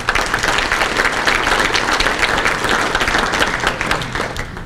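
Audience at a county economic address breaks into dense, sustained applause, a loud even roar of many clapping hands lasting nearly five seconds and easing slightly at the end.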